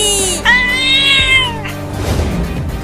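A small, fat cartoon cat lets out a loud, drawn-out meow with a rising then falling pitch. The meow sits close and clear, followed by a rougher trailing tail of sound.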